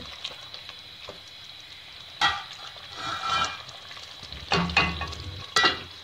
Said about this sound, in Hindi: देखिए फ्राई होना शुरू हो गया हमारा।